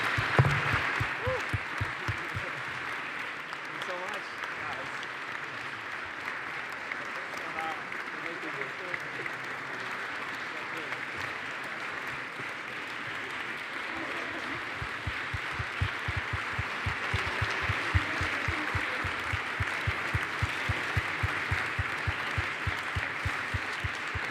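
A conference audience applauds as a team is called onto the stage, with dense, sustained clapping from a sizable crowd that holds steady throughout and grows slightly more rhythmic toward the end.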